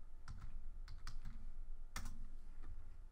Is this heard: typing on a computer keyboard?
yes